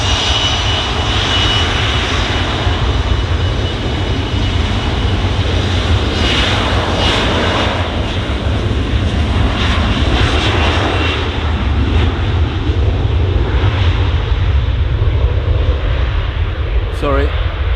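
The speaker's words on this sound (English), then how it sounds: "KLM, Embraer 175 on the roll." A KLM Embraer 175 jet accelerating down the runway on its takeoff roll, a steady loud engine roar holding throughout, heard from nearby with no talking over it.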